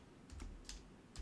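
A command typed on a computer keyboard, a handful of quiet, close key taps in an uneven rhythm over a faint background hum.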